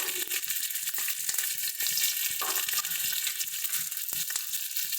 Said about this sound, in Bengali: চলো এবার এর মধ্যে দিয়ে দিচ্ছি বাটা মশলা কাঁচা লঙ্কা বাটা দিয়ে দেব আদা বাটা